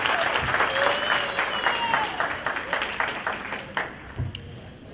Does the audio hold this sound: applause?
yes